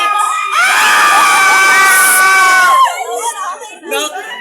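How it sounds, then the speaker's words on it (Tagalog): A group of children shout together in a loud sustained outburst lasting a few seconds, with bright overlapping voices, then trailing off into scattered calls and chatter. "Sigaw tayo."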